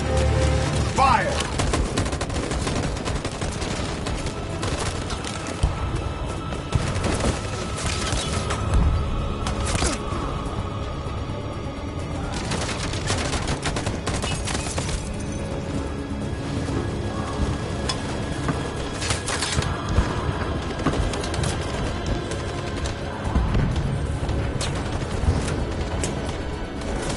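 Sustained gunfire from a PS4 game rattles on for nearly half a minute, with dense volleys, occasional heavier booms and a steady roar of battle noise underneath.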